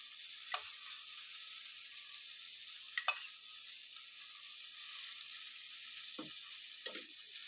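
Seer fish masala sizzles in oil on a tava with a steady, bright frying hiss, broken by a few faint clicks and taps of utensils nearby.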